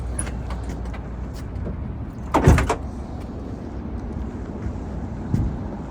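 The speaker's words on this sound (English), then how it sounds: "Now we are going to close the hood." A truck hood swings down and shuts during a pre-trip inspection, one firm loud thud in the middle of a quiet stretch, followed later by a softer small knock.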